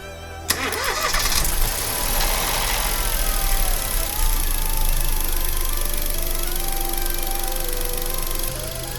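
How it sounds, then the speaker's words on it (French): A Renault Twingo 3 / Smart Forfour 453 petrol engine cranks and catches with a sharp start, then settles into a steady, close idle that runs for several seconds with no talking. "maintenant on va juste faire un démarrage pour remplir le filtre à huile"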